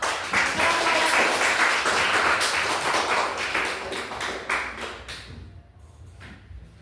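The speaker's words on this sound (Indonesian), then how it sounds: "beri tepuk tangan untuk" A classroom of students claps for a classmates' group after an informatics presentation, a brisk scattered patter of hands that runs steadily and then thins out and fades near the end.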